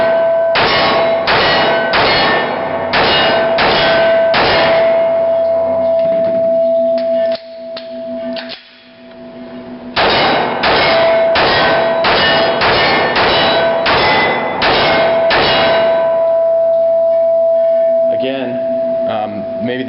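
Shots from a Dan Wesson steel-frame 1911 pistol ring off steel targets in a fast run of roughly a dozen sharp clangs, a pause, then another quick string, loud and close with a steady metallic ring after each hit.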